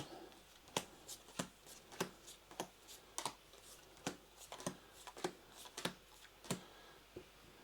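Playing cards dealt out into stacks for a tabletop card game, a quiet series of irregular crisp flicks and slaps of cards landing, close and faint with no talking.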